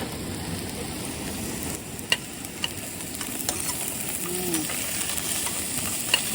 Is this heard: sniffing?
no